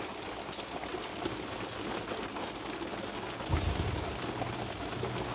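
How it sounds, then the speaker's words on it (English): Hail falls on a garden shed at a UK allotment in April, heard from inside as a dense, continuous patter and rattle. A low cooing, like a pigeon, sits underneath. "I've just had to jump in the shed because it's hailing."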